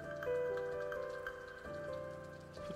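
Rain patters in the video game すぐ死ぬ勇者, a faint soft pattering heard under tonal game music throughout.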